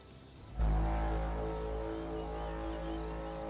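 A War of the Worlds tripod horn replaces a train's horn in a train video game. After a brief quieter lead-in, a sudden, very loud, deep droning blast sounds and holds steadily to the end.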